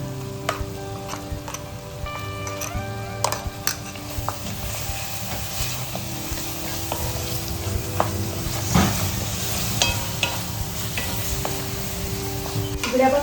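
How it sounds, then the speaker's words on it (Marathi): Spice tempering with garam masala and ground masala paste sizzles steadily in a pan for masoor pulao, a continuous frying hiss broken by occasional clinks and scrapes of a stirring spoon, close and fairly loud. "फोडणी मस्त बसते मी घालायची आपल्याला जे वाटण आता वाटण घालतो"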